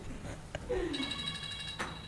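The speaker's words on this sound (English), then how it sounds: "Her phone's ringing." A mobile phone rings quietly in a room, a short electronic ringtone with a few bright tonal bursts over a soft background murmur.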